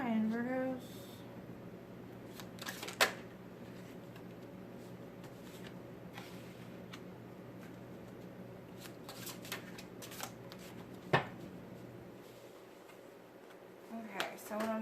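Tarot cards shuffled during a reading, a steady soft papery riffling and flicking that runs throughout, with a few sharper card snaps standing out against a faint background hum.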